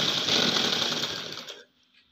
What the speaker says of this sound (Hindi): अब दोस्तों इधर से खींच के सिलाई मारेंगे।